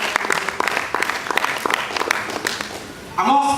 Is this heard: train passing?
no